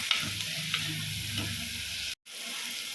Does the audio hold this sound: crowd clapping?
no